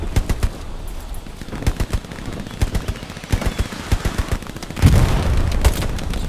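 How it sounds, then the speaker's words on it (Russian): Rifle shots and machine-gun bursts crack in Hell Let Loose, a rapid scattered fusillade at mid distance with a heavier boom near the end, with no talking. "Из дома стреляют."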